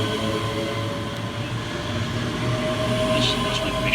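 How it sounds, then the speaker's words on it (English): Two Scotrail Class 385 units pull out of Uddingston station on a Lanark to Glasgow Central service, giving a steady, fairly loud rumble of rolling train with a rising whine and faint squeals near the end. "we see the departure of 385022 and 385046, working the 1728 Scotrail service from Lanark through to Glasgow"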